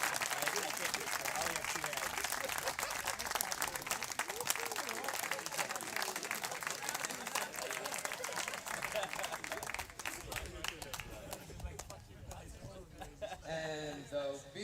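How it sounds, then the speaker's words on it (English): Sustained audience applause and crowd noise fill the whole stretch at a baseball European Federation Cup 2023 award ceremony, honouring the winners, with dense steady clapping that thins slightly near the end. "Big applause."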